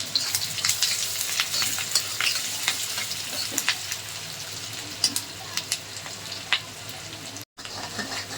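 Onion, green chili and crushed garlic fry in oil for red amaranth greens, a steady close sizzle broken by scattered sharp clicks and scrapes of stirring and a brief cut near the end.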